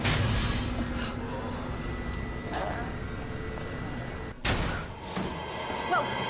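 Gunfire in the video game Resident Evil 2, scattered shots and bursts over a rumbling, noisy game soundscape, with a louder crack near the end and voices present.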